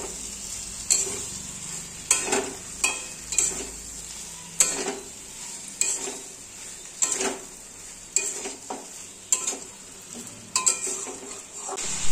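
Poppy seed and mustard paste stirred in a pan for a prawn and taro curry, a spoon knocking and scraping at a steady pace over a low simmering hiss, close and clear.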